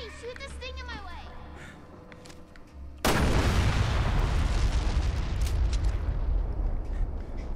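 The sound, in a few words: gunfire in the video game Resident Evil Revelations 2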